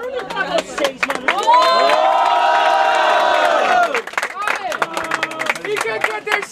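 Audience at a Brazilian freestyle rap battle roaring with loud cheers, shouts and clapping, a sustained burst of crowd noise swelling in the middle, with an MC's voice heard at the start and end.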